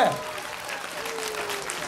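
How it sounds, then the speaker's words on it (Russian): Audience applause at a children's dance school showcase in a youth theatre, a steady dense wash of clapping filling the whole moment after a brief voice at the start. "Аплодисменты."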